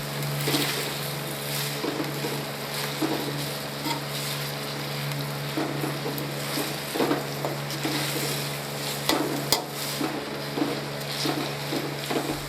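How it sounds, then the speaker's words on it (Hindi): Onions fry in ghee in a kadai with a continuous, dense sizzle and a low steady hum, broken by occasional clicks and scrapes of stirring. No voices. "प्याज को अच्छे तरीके से फ्राई करेंगे।"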